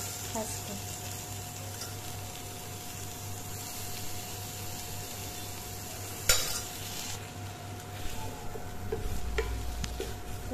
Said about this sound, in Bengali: এবার আমি আলুগুলো একটা একটা করে দিয়ে দেবো ফার্স্টে।